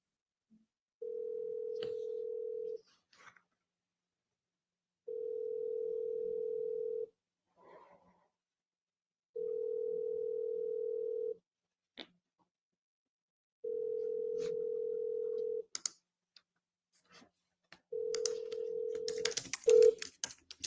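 An outgoing telephone call rings unanswered, five evenly spaced ring tones of about two seconds each separated by silence, heard clearly through the handset, with a click and faint noise at the end.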